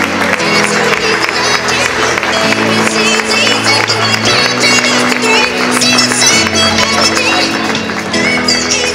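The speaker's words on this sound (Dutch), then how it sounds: "En als eerste graag jullie applaus voor de 17-jarige Rutger Karelsen" A crowd applauds as players are introduced at a league final, a loud sustained wash of clapping mixed with music that has steady bass notes, heard throughout.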